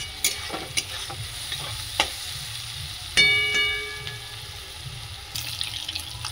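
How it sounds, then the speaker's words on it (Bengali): Chow mein ingredients and spices fry in a wok under a steady sizzle. A spatula stirs with scattered clinks, and one ringing metal strike hums briefly midway. "এখানে সব কিছু মশলা দিয়ে ভেজে তারপরে ডিমটা দেবো"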